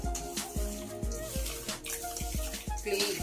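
Korameenu fish being washed by hand in water, a steady sloshing and rubbing with rhythmic splashes repeating roughly every half second, close and continuous.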